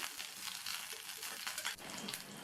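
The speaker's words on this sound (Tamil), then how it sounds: "கத்திரிக்காய் எண்ணெயிலேயே வதங்கி பாதி அளவுக்கு வெந்திருக்கு" Eggplant sautéing in oil in a pan for an eggplant kurma, a soft, steady sizzle and crackle that runs on quietly and evenly with no voices.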